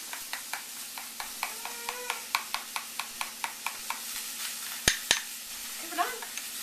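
Bacon crisps in a pan on a stovetop, a soft steady sizzle beneath a run of regular light scraping taps, with two sharper clinks near the end and a brief voice murmuring.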